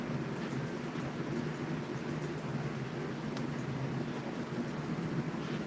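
A fan running steadily nearby as a continuous, even broadband whoosh with no talk, beside a pulse motor setup.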